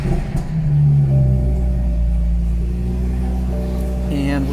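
A 2014 BMW 335i xDrive Sport Line with a six-speed manual starts up and settles into a loud, close, steady idle hum with a brief rise near the end, while a voice speaks briefly over it.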